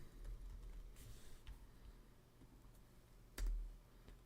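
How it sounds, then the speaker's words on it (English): Faint typing on a computer keyboard, a few scattered soft key clicks and a louder tap, quiet and close with no talk. "I'm going to type in your name"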